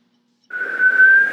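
A person whistles a single clear, sustained note that starts abruptly and holds steady for under a second in a quiet room.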